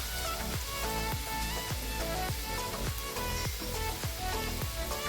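Garlic fries in a pan for a Marathi red pumpkin (gangaphal) bhaji, giving a steady, crackling sizzle that runs without a break.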